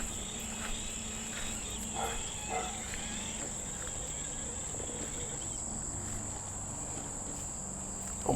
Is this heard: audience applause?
no